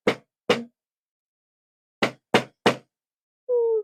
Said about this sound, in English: We're going to hammer it.